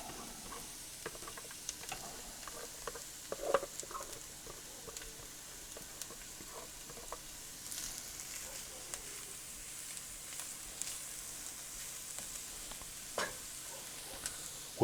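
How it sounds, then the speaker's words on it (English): Onion, celery and bell pepper sautéing over medium-high heat for a shrimp and andouille gumbo: a faint, steady sizzle with scattered small crackles and ticks that stays low throughout. "we're going to saute the Holy Trinity over medium-high heat"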